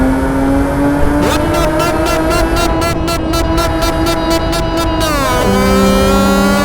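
A BMW M4 engine in Euro Truck Simulator 2 holds a loud, steady high rev against the limiter, with rapid stuttering cutoffs, then the pitch drops as the revs fall.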